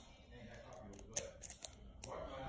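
Scissors snip open a trading card pack in a few quick, sharp clicks close by, with faint room noise and a soft voice in the background.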